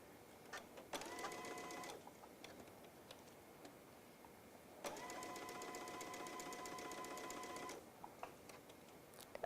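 A sewing machine stitches a fabric basket in two quick bursts of rapid, rhythmic needle clatter, near and clear, with short quiet pauses and small handling clicks between runs.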